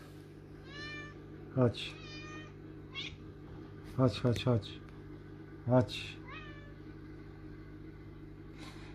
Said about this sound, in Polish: I mój kot przyszedł